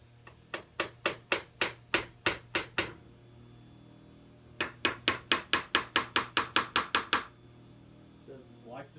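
Repeated hammer taps on a loose intermediate casing from a 1986–1989 Honda Moto4 ATV bottom end, sitting between clutch cover and main crankcase halves: two crisp runs of about ten evenly spaced metallic knocks, loud and close, with a brief pause between.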